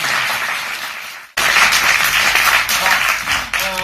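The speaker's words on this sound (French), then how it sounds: "vous pouvez applaudir Shadi quand même" Audience at a French comedy club bursts into loud applause after a short lull, clapping that continues steadily and close, with a brief drop before picking up again.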